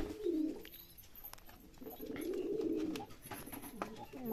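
Fancy pigeons coo repeatedly in low, soft throaty bursts, several birds overlapping at close range, with faint chirps and rustling in the background.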